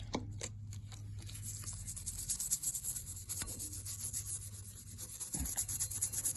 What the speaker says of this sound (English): paintbrush, petrol, and you brush it down